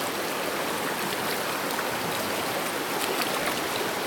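A flowing stream makes a dense, unbroken rushing wash of water that stays close and loud the whole time, with no voices.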